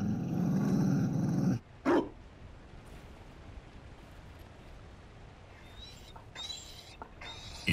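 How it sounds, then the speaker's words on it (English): A Mabari war dog in Dragon Age Inquisition growls low and steadily, then lets out a single sharp bark, followed by quiet ambience and faint chimes. "Found a dog."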